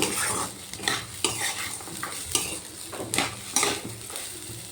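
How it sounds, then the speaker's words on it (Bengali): Green peas frying with rice in a pan, stirred steadily so a continuous sizzle is broken by repeated scraping strokes of a utensil, close and moderately loud, with no talking. "মটরশুঁটিগুলো দিয়ে আবার চালের সাথে ভালো করে ভেজে নেব"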